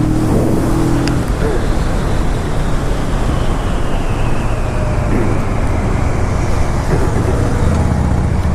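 A 650 motorcycle runs flat out in top gear, a steady sustained engine drone buried under heavy, continuous wind roar at high speed.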